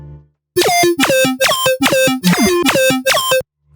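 A future riddim synth lead glued with multiband compression plays seven loud, evenly spaced stabs, each a bright, buzzy burst with a pitch drop, alone with no voice.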